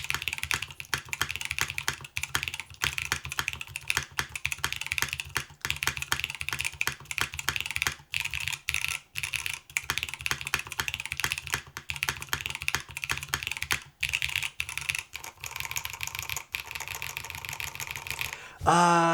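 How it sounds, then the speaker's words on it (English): Steady, fast typing on a Logos 60% mechanical keyboard with a numpad and PBT keycaps, a dense run of close, crisp keystrokes with brief pauses, no voices. "I think these particular switches actually sound better in PBT."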